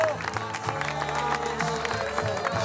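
A mountain crowd at the Alpe d'Evero Trail finish applauds the winner of the 17 km race, scattered claps mixed with cheering voices and a loud announcer talking over it.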